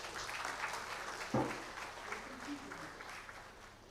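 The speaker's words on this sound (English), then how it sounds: "we'll give you a big round of applause for him" An audience claps for a keynote speaker at a silver jubilee celebration, steady, distant-sounding applause filling the hall, with a brief thump partway through and the sound tapering toward the end.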